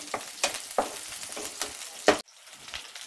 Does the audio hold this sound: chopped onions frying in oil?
yes